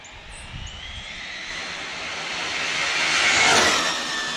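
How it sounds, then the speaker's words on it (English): An Arrma Typhon 6s RC car with an unbalanced right rear wheel, a high whining motor rising in pitch and loudness as it speeds past, with a faint wavering flutter in the tone. "You had to have heard that flutter. Seems like it's the right rear. It's got some weird flutter to it."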